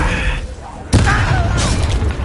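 A Descendo spell cast in Hogwarts Legacy lands as one sudden loud boom near the middle, with a rumbling, crackling magical impact sustained afterward over game combat ambience.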